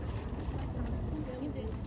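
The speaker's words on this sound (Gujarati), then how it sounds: "અહીંયા બીજી આ નાની બોટ આવી" A small boat passes on harbour water at Fisherman's Wharf in Canada, a low, continuous motor rumble mixed with wind noise on the microphone.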